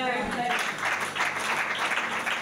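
A church congregation claps and cheers for Jesus, a full, sustained round of applause that swells after the first half second, with voices mixed in beneath it.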